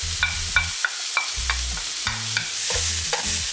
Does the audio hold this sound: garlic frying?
yes